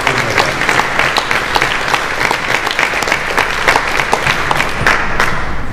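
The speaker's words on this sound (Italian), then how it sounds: "una città come Pescara debba in questo momento rivolgere anche un ringraziamento con un applauso all'opera che ha fatto Carlo Pace" An audience applauds at a tenth-anniversary ceremony for Aurum in Pescara, dense and steady clapping that carries on alone from start to finish.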